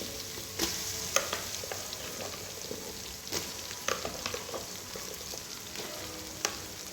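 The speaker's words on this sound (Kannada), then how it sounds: "ಹಾಕೊಂಡು ಚೆನ್ನಾಗಿ ಫ್ರೈ ಮಾಡಿ. ಈರುಳ್ಳಿ ಚೆನ್ನಾಗಿ ಫ್ರೈ ಆಗಿ" Chopped onions frying with ginger-garlic paste in a pan for nati-style biryani, a steady hiss with scattered sharp crackles and spoon scrapes, close and moderately loud with no talking.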